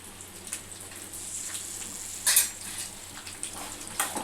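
Green chilies sizzling in hot oil in a pan for punugulu with peanut chutney, a continuous soft frying hiss with brief louder spits and bursts, close up and without talk.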